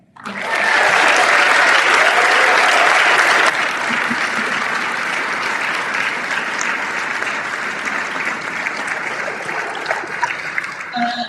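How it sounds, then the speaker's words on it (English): A crowd at a women's volleyball rally bursts into loud, sustained applause that begins abruptly, stays dense and then eases to a slightly softer, steady clapping until the end. "one more round of applause for this team."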